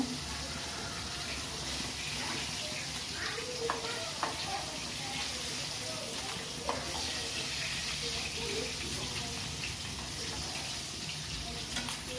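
Hilsa fish pieces lightly fried in hot oil in a pan, giving a steady close hiss and sizzle throughout with a few faint clinks and shifts, no talking.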